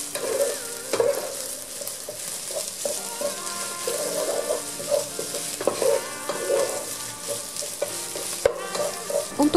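Fried rice sizzles steadily in a hot pan as a utensil repeatedly scrapes and tosses it, a continuous stir-frying clatter with no voices.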